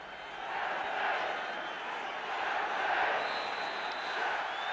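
A football crowd of about 31,000 fills Stamford Bridge in London at Chelsea versus Luton Town, a steady distant roar and murmur of voices that swells gently without pause.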